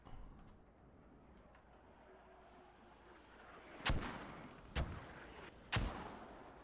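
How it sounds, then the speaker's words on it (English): Incoming mortar shells land in a multiplayer war video game, three loud, sharp booming impacts about a second apart near the end, after a quieter stretch of low rumbling ambience. "And we have mortars coming in here."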